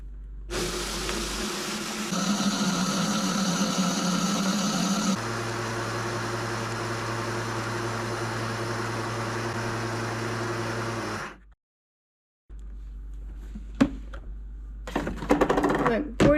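A countertop blender grinds coffee beans with a loud, steady whirring roar that shifts pitch partway through, then cuts out briefly before a short clattering restart and handling noises.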